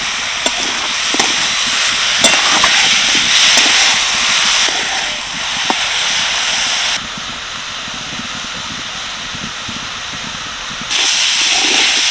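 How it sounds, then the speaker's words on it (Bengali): Vegetables fry in a pan seasoned with salt and turmeric, giving a continuous close hissing sizzle with occasional clicks of stirring. The sizzle softens midway and then swells again. "সবজিগুলো প্রায় 2 মিনিট মতো ভেজে নিয়েছি"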